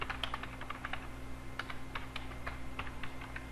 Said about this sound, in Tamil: ஜஸ்ட் ஒரு ஸ்டேட்மென்ட் நான் டைப் பண்ணிக்கிறேன்